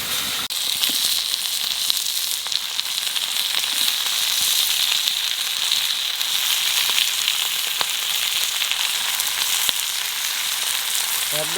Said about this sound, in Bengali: পেঁয়াজটা একটু ভেজে নিয়েছি, এবার মাংসটা দিয়ে দেবো।